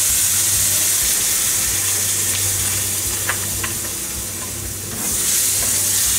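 Vegetable vinegar hits a frying red chili mixture for a Kerala sadhya dish, bringing a loud, steady sizzle and hiss with a few clinks of stirring, then a brief dip before the sizzle surges back.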